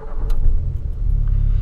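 A Volkswagen Polo sedan with a 1.6 engine cranks and catches, then settles into a loud, close, rumbling idle.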